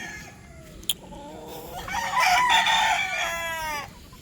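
Rooster crows among brood cocks on a farm, one clear crow rising loud and drawn out over a second and a half, with a sharp knock just before and faint background chatter of fowl.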